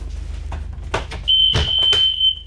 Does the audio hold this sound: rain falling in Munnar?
no